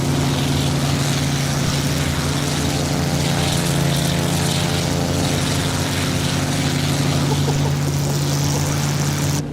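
A Bf 108 Taifun propeller engine runs at full power and max RPM in a flight simulator over the Alps, a loud, steady, droning buzz with a slight pulsing rise, continuous throughout and without talk.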